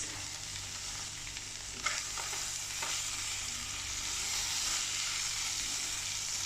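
Onion and green pepper stirred in a frying pan for a mini pie filling, a steady soft sizzle with a couple of faint utensil scrapes against the pan.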